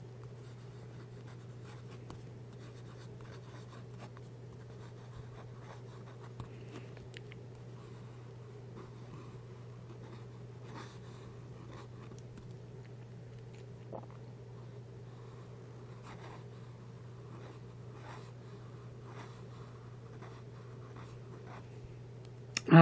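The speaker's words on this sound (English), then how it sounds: "The flow is nice, steady, juicy, wet nib." A TWSBI 700 fountain pen with a wet, juicy nib scratches softly across paper in irregular strokes, faint and close over a steady low hum, with no one speaking.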